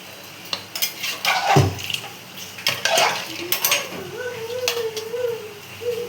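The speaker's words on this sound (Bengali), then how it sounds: "এগুলো দিয়ে জলটা দিয়ে দিলাম।" Water goes into a mutton curry pot with onions and garlic, accompanied by close clinks and scrapes of a metal spoon against the pan, splashes and a light sizzle, in a busy kitchen.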